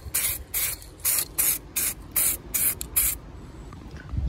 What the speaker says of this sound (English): Just give it a coat of paint.